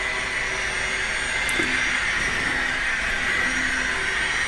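A GTEL 4500 gas turbine locomotive in a train video game works up a climb, its turbines giving a loud, steady jet-like roar with faint rail rumble underneath.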